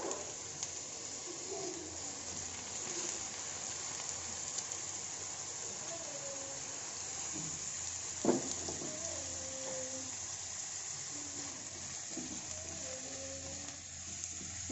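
Chopped ginger, garlic and onions fry in a pan with a steady, even sizzle throughout, with faint chirps behind it and a brief clatter near the middle.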